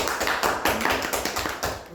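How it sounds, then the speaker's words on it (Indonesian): A classroom audience claps for a teacher, Ibu Barasa, in a small group: uneven individual hand claps in a quick irregular rhythm, close and fairly loud, sparse enough that separate claps stand out. "tepuk tangan untuk Ibu Barasa"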